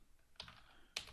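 Two quick keystrokes on a computer keyboard, a soft tap followed by a sharper, louder click about half a second later, close up in a quiet room with no talking.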